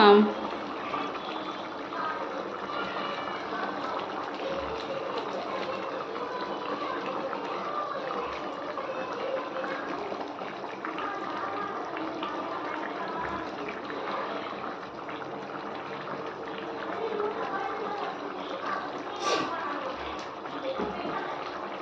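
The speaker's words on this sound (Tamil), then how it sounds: "நல்லா கொதிஞ்சிட்ருக்குங்க" A pot of yam and dried fish curry bubbles and simmers steadily throughout, a dense watery rumble with no talk over it.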